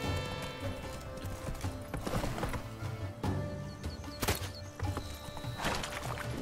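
Roach, Geralt's horse in The Witcher video game, galloping with rapid rhythmic hoofbeats and a brief whinny over game music and effects.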